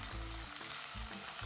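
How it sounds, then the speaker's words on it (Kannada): Field beans and onion frying in a pan, a brief, quiet, steady sizzle with a couple of soft stirring movements and no speech. "ಅವರೆಬೇಳೆ ಮತ್ತೆ ಈರುಳ್ಳಿ ಎರಡು ಚೆನ್ನಾಗಿ ಫ್ರೈ ಆಗಬೇಕು"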